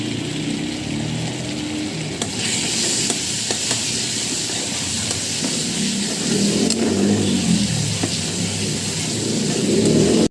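Ginger and garlic paste fry with onions in a pan for crab curry, a loud steady sizzle with stirring scrapes that swells louder toward the end.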